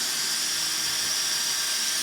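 A drill runs continuously with a high, even whine, spinning freely without load, close and steady, no talking.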